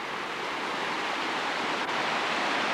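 Water from a stream trickling and rushing near a waterfall at Lake Tahoe, a steady, even broadband wash that holds constant throughout with no voices.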